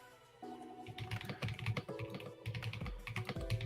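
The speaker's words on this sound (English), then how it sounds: "you can hear my keyboard typing away" Computer keyboard keys are tapped in irregular bursts of soft clicks, close by, with steady tonal background music running underneath.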